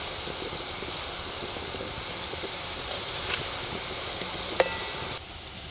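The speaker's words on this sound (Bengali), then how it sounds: "মিষ্টিটা একটু হালকা আঁচে ভাজতে হবে, না হলে পুড়ে যাবে মিষ্টিটা" Semolina gulab jamun sweets frying gently in oil over low heat, giving a soft, even hiss with faint crackles that continues throughout.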